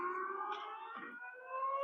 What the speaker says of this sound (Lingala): Sirène d'alerte tôt ce matin à Tel Aviv.